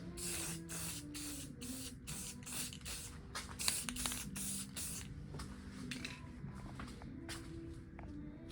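Spray paint bursts out in short, rhythmic hissing blasts as a seed tender part is coated inside a paint booth, with faint movement and footsteps between sprays.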